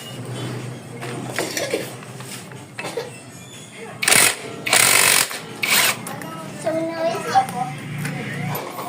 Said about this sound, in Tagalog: Ito muna natin baklasin mga boss, itong nut ng pulley set natin. 17mm itong nut na to para mabaklas natin.